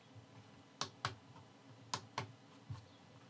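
Buttons on a FrSky Taranis radio transmitter give sharp plastic clicks in about five quick, separate presses against a quiet room, faint and close by.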